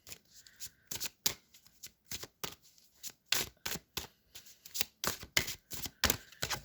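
Oracle cards shuffled by hand during a pick-a-card reading, giving a rapid series of crisp riffling bursts with short pauses between them, close and fairly quiet.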